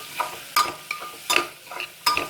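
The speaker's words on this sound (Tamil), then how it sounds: "நல்லா வதங்கட்டும்." Betel leaf and coriander sautéing in a pan, with a spoon scraping and stirring in about five sharp, close strokes over a soft sizzle.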